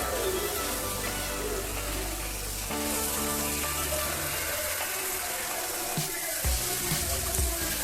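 Water runs and sloshes continuously, with a few soft splashes near the end as cut brinjal (eggplant) pieces are dropped in.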